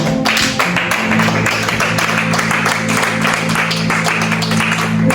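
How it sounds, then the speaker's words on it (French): A church congregation in Ottawa applauding for Jesus during a worship service, a continuous crowd of clapping layered over sustained low music for several seconds. "Acclame pour Jésus"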